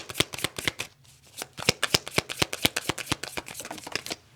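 Tarot cards being shuffled by hand make a quick, crisp run of papery riffles and slaps in close-up, in rhythmic bursts with a short pause near the one-second mark.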